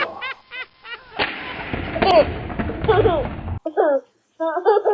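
Electronic toy AK-47 assault rifle firing bursts of synthetic rattling shots with chirpy effects, loud and close, broken by short pauses, while a child and an adult talk over it.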